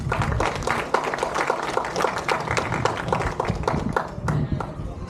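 A graduation ceremony crowd applauds steadily, a dense wash of many hands clapping at once, sustained and fairly loud throughout.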